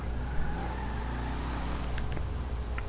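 A replica of the 1971 Lincoln limousine from a horror film pulls out with a steady, faint low engine rumble over constant background noise. A few light clicks come near the end.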